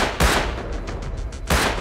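Gunfire in the survival video game Rust, two sharp, loud shots about a second and a quarter apart, with a rapid rattle of quieter reports between them and no voices.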